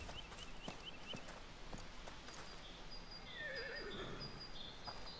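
A horse whinnies in the video game A Plague Tale: Requiem, a rising and falling neigh over a steady ambient background with faint hoof sounds.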